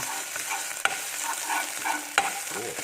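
Homemade Thai curry paste is stir-fried in a pan, a steady sizzle with soft scraping strokes of a spatula and a couple of sharp knocks against the pan, close and continuous, no voices.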